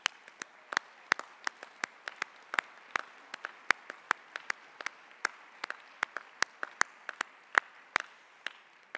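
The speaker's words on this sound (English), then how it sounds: "I want to give you the biggest round of applause." Scattered clapping from the audience at a plenary session of the ITUC World Congress, sharp separate claps in an uneven rhythm, fairly faint and without talk.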